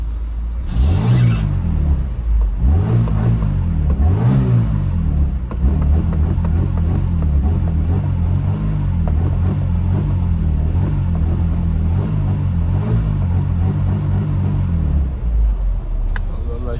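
A Tofaş Şahin car engine revs repeatedly through a loud, throaty aftermarket Konya exhaust, rising and falling in several surges before settling into a deep, rumbling drone.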